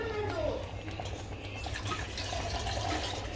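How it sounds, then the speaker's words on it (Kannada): Water poured into a pot of simmering mutton curry gravy with green chilli, tomato and pepper, a steady close liquid pour over a low, constant background rumble. "ಅದಕ್ಕೆ ಸ್ವಲ್ಪ ನೀರು ಹಾಕ್ಕೊಳ್ಳಿ"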